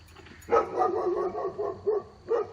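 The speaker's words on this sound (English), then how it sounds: "Now, she's got Maze barking" A dog barks repeatedly up close, several sharp barks in quick succession with short yelping tones between them.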